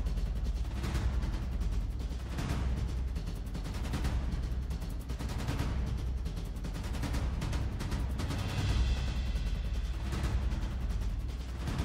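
Video game gunfire of dense, rapid shots and bursts, like a continuous firefight, stays loud and busy throughout with no pauses and no voices.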